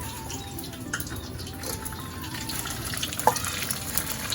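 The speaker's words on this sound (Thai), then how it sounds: "หลังจากที่เราตั้งน้ำมันร้อนแล้วนะครับ เดี๋ยวเราก็จะทอดข้าวเกียบลงไปเลยนะครับ" Thai rice crackers (khao kriap) frying in hot oil, a close, steady sizzle and bubbling hiss with small crackling pops and one sharper pop near the end.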